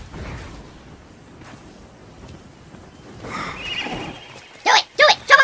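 Horse in a video game, its neigh and hoof sounds rising briefly out of low background noise, followed by three short loud bursts of shouting near the end.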